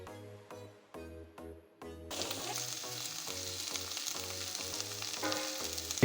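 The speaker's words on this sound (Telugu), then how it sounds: "మునగాకునైతే ఆయిల్తో మంచిగా మిక్స్ అయ్యేటట్లునైతే వేయించుకోవాలి." Moringa leaves frying in oil, a close bright sizzle that rises suddenly after a few seconds and carries on steadily, with a repeating musical tone running underneath.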